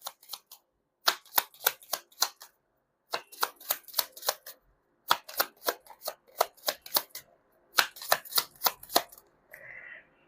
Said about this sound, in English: let's pull up another card here